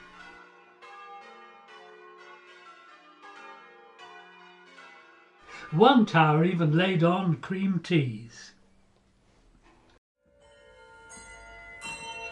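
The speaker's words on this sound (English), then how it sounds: "The project finale brought together the ideas of bell ringing and musical composition" Church tower bells ring faintly during a bell-ringing festival in Frome, England; a narrator speaks over a pause in the middle, and the bells return softly toward the end.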